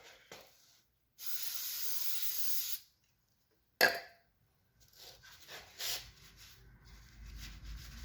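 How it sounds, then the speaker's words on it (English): Two bursts of aerosol brake cleaner hiss close by onto the tachometer cable of a Honda GL1100 motorcycle, one long and steady, then a short sharp blast, followed by quieter rubbing and handling noises. "Try spraying this down with some brake clean as well"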